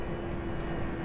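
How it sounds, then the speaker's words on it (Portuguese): An airplane passing overhead in GTA San Andreas gives a brief, steady engine drone, loud and continuous with no pause, heard alone without talk. "Ah, o avião passando aqui."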